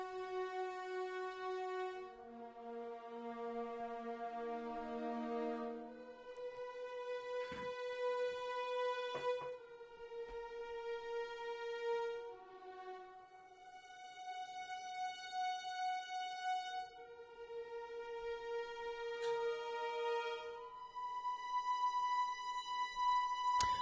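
Muted sordino violins from the Free Orchestra Kontakt library play a slow, quiet sequence of sustained chords and soft melodic lines, with gentle swells between phrases and a few faint clicks, for nearly half a minute without any voices.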